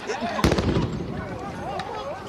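A flashbang goes off at a street protest as a single sharp, loud bang amid crowd noise, with voices talking and shouting around it.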